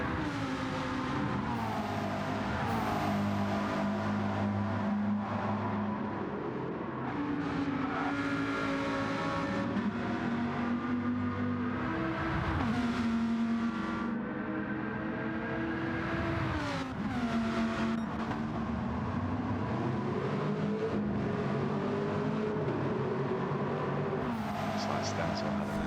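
Race cars lapping Monza GP in a racing video game, steady engine whine rising and falling through gear changes and revs, continuous and prominent under a commentator talking.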